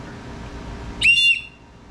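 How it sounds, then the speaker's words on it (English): A short, shrill blast from a car emergency kit whistle rings out for about a third of a second after a stretch of quiet background noise. "Oh, this is a whistle."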